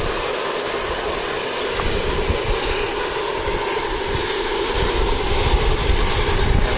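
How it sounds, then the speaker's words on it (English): An ATR turboprop at Wellington Airport in New Zealand, heard alone as a loud, steady propeller and engine drone close by. "ATR coming out. It's hopefully followed by an A320neo to depart for Sydney."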